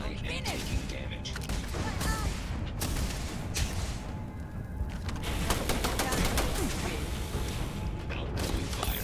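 Rapid gunfire from a Starfield firefight, with bursts of shots and clattering impacts running almost nonstop in the mix, and voices speaking over it.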